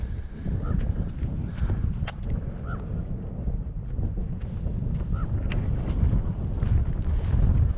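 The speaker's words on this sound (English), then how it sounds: "the wind kicked up to 20 miles an hour and blew clouds right over the sunrise" Steady desert wind roars and buffets the microphone at around 20 miles an hour, a constant low rumble with no voices for the whole stretch.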